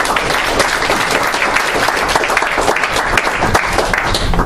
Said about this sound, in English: let's give a round of applause to Cooley for that